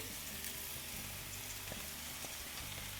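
Soft, steady sizzle of capsicum frying with vegetables in a pan, quiet and continuous with occasional faint stirring scrapes, no talking.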